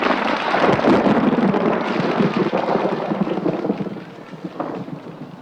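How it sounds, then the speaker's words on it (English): Thunder from a storm building at an outdoor circus rumbles long and loud, a deep rolling peal that swells early, holds, then slowly fades with a brief later swell. "It looks like we might have a storm brewing."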